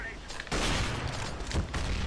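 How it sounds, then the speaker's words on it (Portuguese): A grenade explosion in CS:GO on PS3, a sudden loud blast that sets off a sustained roar, followed by another heavy burst, all fairly close. "A granada caiu do meu lado."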